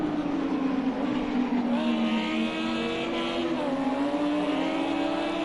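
Lamborghini Super Trofeo race car engines drone in a racing video game at Imola in the rain, a steady high whine with shifting revs and overlapping cars, loud and continuous.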